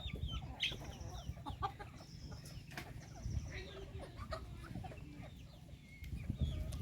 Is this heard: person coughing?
no